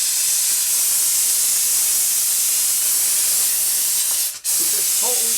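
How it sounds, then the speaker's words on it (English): A steam cleaner jets along the edges of a sink, giving a steady close hiss of spraying steam that cuts out abruptly near the end before a voice briefly starts speaking. "here's the things that steamer is really good for. See along the edges here?"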